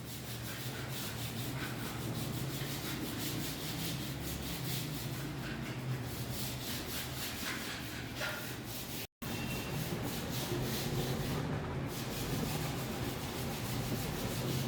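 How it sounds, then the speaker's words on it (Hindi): Sandpaper rubbed steadily across a room surface during interior decorating work to clear rough grains and dried mud, giving a continuous, close, scratchy rasp with no talking. "तो वो क्लियर क्लियर करने के लिए इसको रेगमाल लगाना ज़रूरी होता है"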